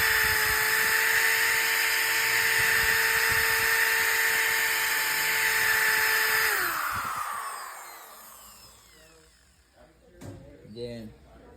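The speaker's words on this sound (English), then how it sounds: "Keep it flat while you're sanding." An electric power sander runs at full speed with a steady high whine on wood, then winds down and stops, followed by faint handling noises and brief talk.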